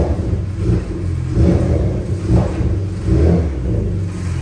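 Porsche Macan with a newly installed SOUL aftermarket exhaust revving, several loud rising engine blips with a low burbling rumble between them, close by and without talk.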